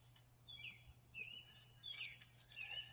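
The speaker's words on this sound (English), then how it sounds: "I like your whistle too, bird. It's really good." A bird whistles a series of short, bright chirps and sliding notes, several in quick succession, faint and somewhat distant over a low steady hum.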